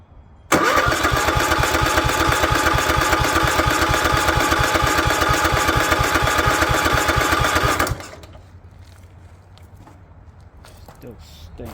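A Craftsman lawn tractor engine, once trampled by goats, catches abruptly and runs loud and steady for about seven seconds, then cuts off into quiet background.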